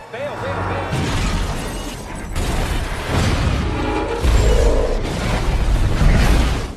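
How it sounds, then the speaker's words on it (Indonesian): An unmanned train in a film derails, overturns and explodes. Loud continuous crashing and rumbling builds into heavy, booming blasts, with a narrator's voice over the din. "Kereta sudah terlanjur keluar dari jalur, hingga akhirnya terguling dan meledak seketika."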